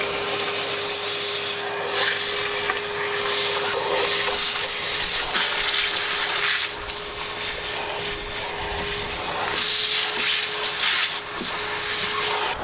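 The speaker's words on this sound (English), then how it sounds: "Alessia's going to hoover up this schmuck" A vacuum cleaner hoovers debris from the stripped-out interior of a VW T4 Transporter camper van, giving a loud, steady whooshing roar with scraping and rubbing as the nozzle moves over surfaces, with no talking.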